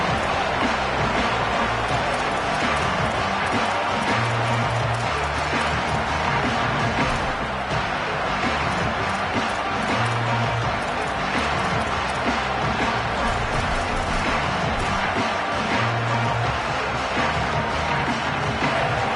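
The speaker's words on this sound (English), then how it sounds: "This crowd trying to make life miserable for this offense." A stadium crowd in an American football video game keeps up a steady, dense roar that stays even and loud throughout, with no clear voices standing out.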